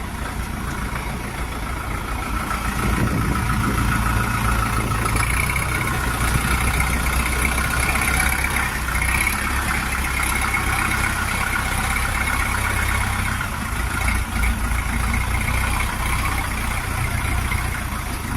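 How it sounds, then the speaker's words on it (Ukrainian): A Jinma 404 tractor engine idles steadily at close range, a continuous low rumble with a mechanical hum that holds even for the whole stretch. "Отакий тракторець"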